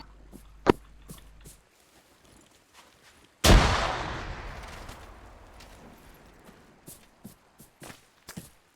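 One sudden, loud grenade blast in a video game, its low rumble decaying over several seconds, surrounded by scattered faint thuds and footstep-like taps.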